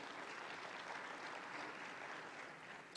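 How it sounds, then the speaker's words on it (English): Conference audience applauding steadily in a large hall, a dense wash of clapping held at an even level for the whole stretch, fairly distant and without voices on top. "you can clap for them"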